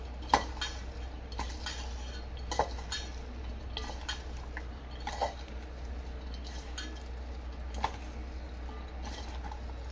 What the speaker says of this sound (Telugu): ఇవన్నీ అయితే మిక్స్ చేసుకుంటాను ఇప్పుడు